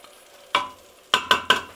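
Carrots and celery sizzle in a hot Instant Pot as they are spread out, with four short scraping stir strokes, one alone and then three in quick succession, close and moderately loud.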